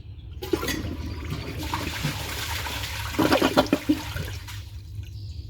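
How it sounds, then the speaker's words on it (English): A 2013 Eago toilet flushes a grocery bag with a rushing, gurgling swirl of water that surges midway and then drains down, close by with no talking. "So let's see how it does on a grocery bag."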